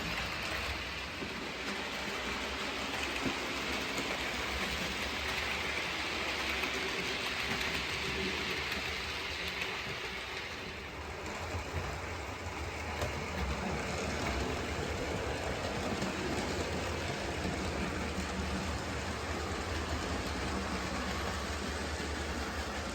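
An OO-gauge model train, a Class 40 locomotive hauling five cars, rumbles steadily along its track with a continuous rolling hum and faint clatter, close by, with no talking throughout.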